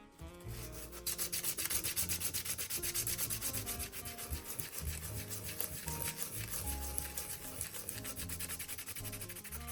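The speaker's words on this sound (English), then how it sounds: "I'm just going to do a quick little sand. All I could find is this sandpaper." Sandpaper rubbed by hand over a hard sculpture, a steady close scratchy rasping that runs continuously with rapid back-and-forth strokes and no pauses.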